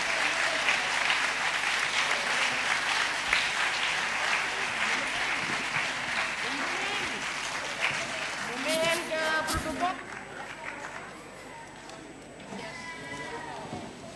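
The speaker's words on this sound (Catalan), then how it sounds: "un aplaudiment per als que entren ara" An audience applauds people entering at a Catalan town festival opening ceremony, a sustained dense round of clapping that thins out near the end as a voice and crowd murmur take over.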